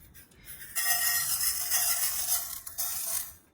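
Fenugreek seeds dry-roasting in a pan for homemade kuzhambu chili powder, stirred continuously, giving a steady close rustling, scraping sizzle that starts abruptly and runs loud with a brief dip near the end.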